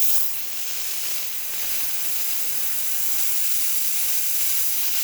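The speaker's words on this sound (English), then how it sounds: "you're going to see the steam build right back up because that relay was swapped" A Profitec Pro espresso machine's steam wand, freshly serviced with a swapped relay, lets out a continuous bright hiss of steam that holds steady and loud for several seconds, with no talking.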